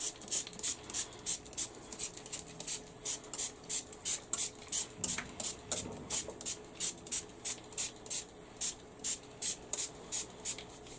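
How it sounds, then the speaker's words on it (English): Rapid, regular bursts of spraying hiss repeat close by, about two per second, short pumps from a spray bottle onto a fabric bag with no talking. "First off, I want to spray my bag."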